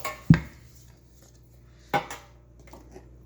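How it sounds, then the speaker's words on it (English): A metal cake pan is picked up and set down on a kitchen counter while baking an applesauce nut cake, giving two distinct clanks a little over a second apart with quiet handling between. "Now I'm going to grab my cake pan."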